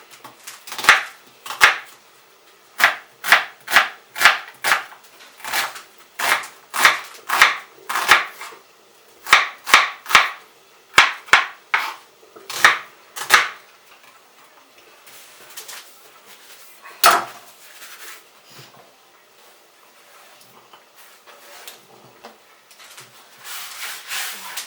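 A knife chops ingredients for Galuschki, potato dumplings, on a board with a run of crisp, closely spaced, near cuts in uneven rhythm, then a pause and a few more chops at the end.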